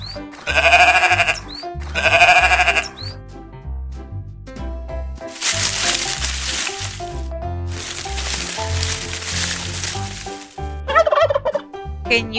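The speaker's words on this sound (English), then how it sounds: "It's a turkey" A turkey gobbling loudly in two rapid bursts, followed by longer bleating animal calls and a final brief call, all close and clear with no talking.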